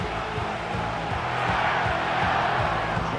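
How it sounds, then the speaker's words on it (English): Steady roar of a home stadium crowd rallying in a Madden NFL 25 football game, a dense continuous wash of cheering voices with faint low thumps running throughout. "you can already hear this home crowd rallying in support of that upset"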